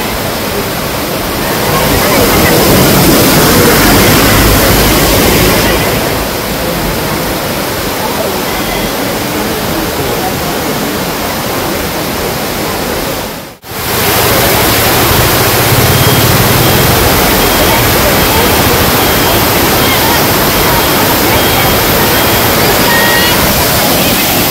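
Athirappilly (Cheeyappara) waterfall in Kerala roars with a dense, loud, unbroken wash of falling water, interrupted only by a brief dip about halfway through.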